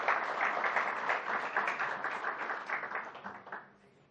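Sustained applause from an audience at an international science and arts award ceremony, steady dense clapping that fills the room and fades out near the end.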